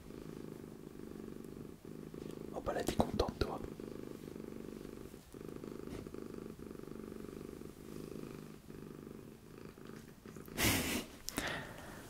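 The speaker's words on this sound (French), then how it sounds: "elle ronronne fort" A cat purrs steadily and loudly up close, a low continuous rumble, while someone speaks briefly over it.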